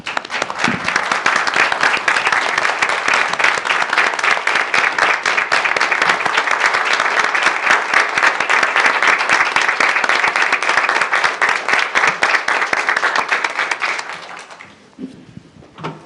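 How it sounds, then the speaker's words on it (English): Long, steady applause from the room for veterans at a city council meeting, dense clapping for about fourteen seconds before tapering off to a few scattered claps. "would you please stand and accept a round of applause from the rest of us?"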